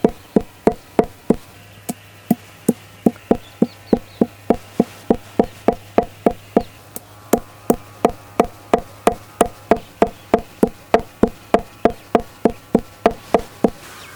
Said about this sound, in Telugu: ముందుగా చెక్క లవంగా ఇలాచి పొడి చేసి ఒక కప్పులో పెట్టుకుందామండి